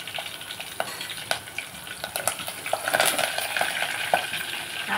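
Garlic sizzles in hot tempering oil in a pan, a steady close frying hiss with scattered sharp pops and spatters, alone without speech.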